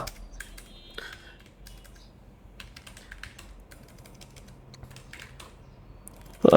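A short string gets typed on a computer keyboard as scattered clusters of light, close key taps with short gaps, then a sudden louder thump right at the end.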